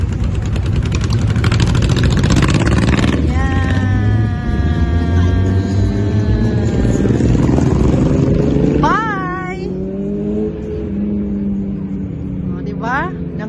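A motorcycle motorcade rolls past, its engines droning steadily and loudly up close, with rising and falling revs, a couple of horn blasts, and voices talking over it.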